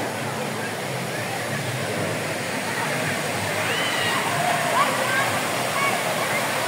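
Steady, full rushing of spring falls water pouring into a cave and churning nearby, a constant roar with no breaks.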